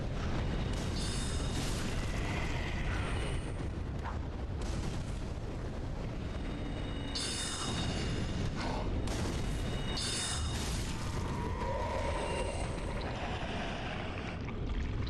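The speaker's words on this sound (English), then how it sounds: "I'm pretty sure these are exploding barrels, by the way." Barrels detonate in Dark Souls 3 with loud, rumbling booms that repeat over a dense, continuous roar of in-game noise, filling the whole stretch.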